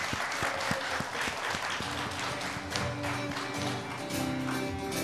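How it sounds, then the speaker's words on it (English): A standing church congregation claps along as singers begin a song, producing continuous, fairly quiet applause with sharp individual claps near the front and a steady tone of music underneath. "give them a hand and Jesus a hand clap"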